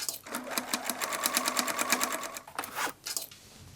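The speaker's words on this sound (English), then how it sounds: "stitch on a sewing machine" A sewing machine stitches a folded hem on knit fabric, its needle hammering in a fast, even close-up rhythm that runs steadily, then stops briefly and restarts in a short final burst.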